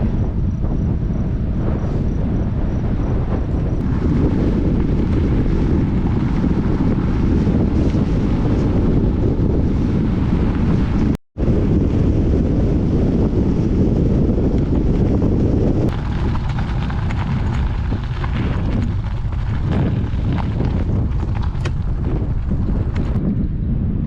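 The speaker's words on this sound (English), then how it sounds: "Shows you how windy it is." Strong wind blows steadily on an open rail trail along the historic Union Pacific line under slushy gray clouds, a loud, unbroken roar of wind against the microphone with one brief dropout midway.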